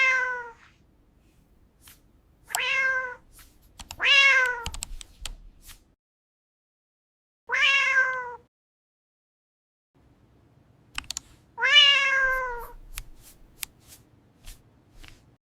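Several cats meow in a computer-generated boardroom scene, five separate drawn-out, rising-and-falling calls spaced a few seconds apart with quiet gaps between them, close and clear with no talking.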